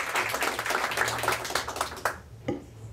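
Applause from a conference audience at a library science research colloquium, a dense patter of many hands clapping close by for about two seconds, then fading to scattered isolated claps.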